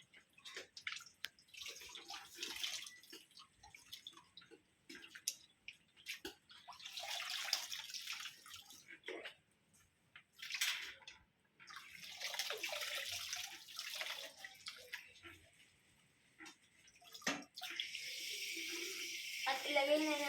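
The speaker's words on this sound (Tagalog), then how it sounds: "Banlawan naman natin ng 3 pesos itong damit." Clothes rinsed by hand in water make intermittent sloshing, splashing and dripping bursts with pauses between them; a voice talks at times, and a louder stretch of running water comes near the end.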